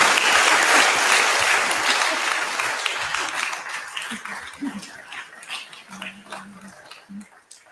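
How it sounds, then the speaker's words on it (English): An audience applauds a choir, dense clapping that starts loud and gradually thins out, with scattered voices and a few lingering claps at the end. "let's just give them a round of applause."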